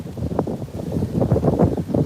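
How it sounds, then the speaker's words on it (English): Gusty wind buffets an outdoor microphone in Mount Vernon, Baltimore, producing low rumbling bursts that swell and fade irregularly with no voices. "Oh, nope, I found the wind."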